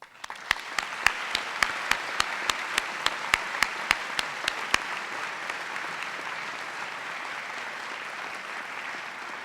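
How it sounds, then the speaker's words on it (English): A crowd at a 2012 honors convocation applauds steadily for several seconds, a dense wash of clapping with sharp individual claps standing out near the start. "I would still like a big round of applause for Cassie Waldron."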